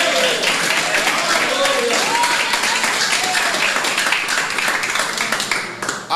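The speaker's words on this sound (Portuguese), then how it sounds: "E as palmas para Jesus." A church congregation claps along in steady, dense applause that carries through the whole stretch, with raised voices calling and singing over the clapping.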